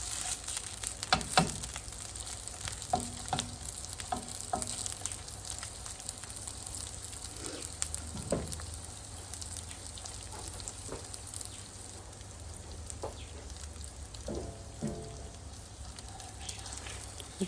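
Patties frying slowly in a pan, a steady, moderate sizzle with scattered crackles and occasional light clicks and taps, close and fairly quiet, with no talk.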